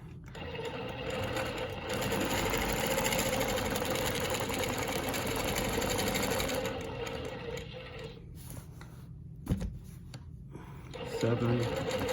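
Longarm quilting machine stitching Baptist fan patterns along rulers, a steady mechanical hum with a rapid needle rhythm running continuously, then easing and stopping briefly near the end before restarting.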